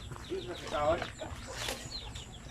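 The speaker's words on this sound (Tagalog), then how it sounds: "Kaya ganyan ng ating mga native na mga manok." Native chickens clucking and calling close by, with a person talking over them throughout.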